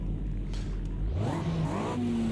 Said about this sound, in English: Oh, listen to that monstrous engine roar.